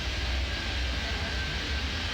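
An airliner rolls out on the runway in the airport management game Airport Madness 3D, a steady, even engine roar with a broad rushing hiss and no talking.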